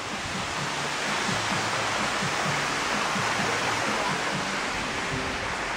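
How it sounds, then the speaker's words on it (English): Steady broadband roar of a waterfall beside a mud bath spa in Nha Trang, Vietnam, close and continuous with no talk, a dense even rush of falling water. "Posted up right by the waterfall."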